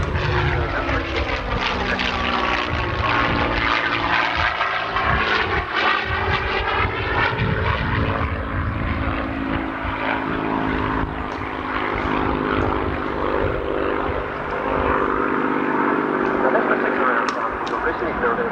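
A propeller aircraft, a single-seat Mark 9 built in 1944 at Castle Bromwich, flying at the Ulster Airshow in Newtownards, with a loud, sustained engine drone whose pitch slowly sweeps as it passes, and a commentator speaking over it.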